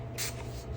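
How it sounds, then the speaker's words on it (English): A spray bottle gives a single short spritz of water onto paper, a quiet brief hiss over a low background hum. "Spray a little water."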